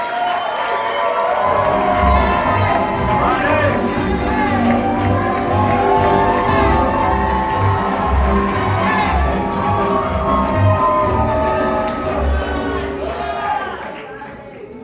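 A large comedy club crowd cheers and claps continuously, with whoops and shouts rising over steady applause throughout.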